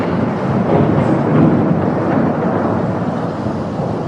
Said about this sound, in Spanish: ¿Son truenos?